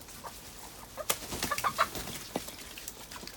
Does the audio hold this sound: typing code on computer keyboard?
no